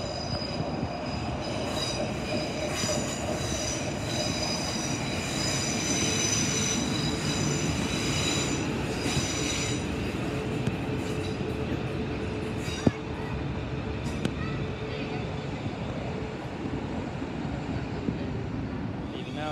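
A British Rail Class 455 electric train rolls into St Denys station steadily with a continuous rumble and whine, faint wheel squeal rising over the track noise, close by, and a single sharp click partway through.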